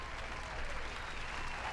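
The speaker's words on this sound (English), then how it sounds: "Let me turn the applause up a little bit." An applause sound effect played on a podcast, a continuous, moderately quiet patter of many hands clapping that holds steady for the whole short stretch without pauses.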